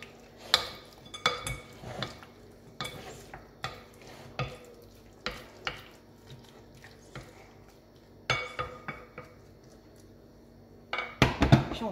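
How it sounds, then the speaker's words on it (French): Potato and egg mixture for a quick Spanish tortilla is stirred in a bowl, with a utensil scraping and clinking in irregular strokes, close and fairly quiet, with no talking. "Et on va venir mélanger."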